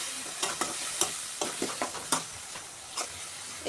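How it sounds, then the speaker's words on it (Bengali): Ground chili powder and cumin paste frying in a hot pan while being stirred, a steady close sizzle broken by repeated scraping stirs, with no talk. "এটা খুব ভালো মতো ভাজা হয়ে গিয়েছে"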